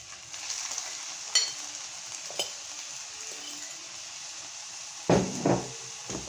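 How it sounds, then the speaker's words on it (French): Steady sizzle of spinach and onions frying in a pan, with occasional scrapes and knocks of a utensil stirring against the pan, the loudest clatter near the end. "Et on va bien mélanger pour bien que ça prenne de la saveur avec les oignons."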